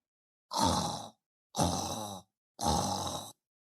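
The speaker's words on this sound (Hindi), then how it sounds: "पृष्ठभूमि में खर्राटे की लाइव स्ट्रीमिंग" Three long, rasping breaths come in slow, even succession with pauses between, loud and close like heavy snoring.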